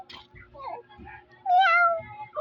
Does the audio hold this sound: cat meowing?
yes